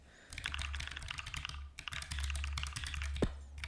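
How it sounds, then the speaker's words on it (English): Rapid typing on a computer keyboard, with dense clattering keystrokes in quick bursts and a brief pause, close and fairly quiet over a low hum, with no talking. "here's my typing skills. You like want to see my typing skills?"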